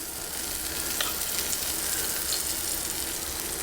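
Scallops searing in a pan while butter and thyme are spooned over them, a loud, steady close sizzle with a few light clicks of the spoon.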